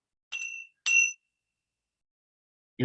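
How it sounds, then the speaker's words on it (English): Two bright, clear metallic rings from a Tibetan bell, each a short sustained tone, one right after the other, followed by silence and then a brief sound cut off at the end. "This is my Tibetan bell. Got that nice ring to it."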